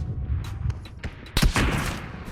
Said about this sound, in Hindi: देखा M24 का शॉट एकदम बाजू से गया